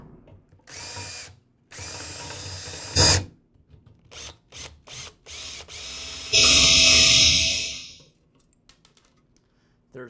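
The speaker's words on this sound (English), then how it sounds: "I'll just use the drill to drill out the bulk of the metal around the top of the rivet" A power drill whirs in several short bursts, then a longer, louder grinding run as it bites into a metal rivet on a Troy-Bilt TB280ES lawn mower starter assembly, with clicks and pauses between.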